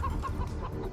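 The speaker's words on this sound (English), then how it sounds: "this big shed containing some very lonely chickens" Chickens cluck in short repeated bursts inside a big shed in Far Cry 3, a close, steady run of game-world fowl sounds with no talk over them.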